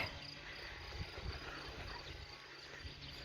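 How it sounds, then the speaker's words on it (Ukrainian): Cricket chirping in a rural hayfield being mowed and turned, a faint steady insect trill under soft outdoor ambience, no talk. "Цвіркун цвірчить."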